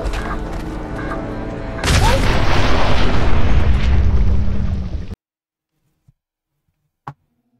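A loud, close bomb explosion in the video game Fallout 4 erupts into a sustained roaring blast that cuts off abruptly to silence, followed by two small knocks.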